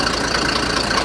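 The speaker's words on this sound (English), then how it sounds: "You can see the propeller turning slowly, and it's making this ice carousel turn." A 160-horsepower engine drives a propeller that spins an ice carousel, giving a loud, steady mid-to-low mechanical drone with an even, continuous texture and no voices.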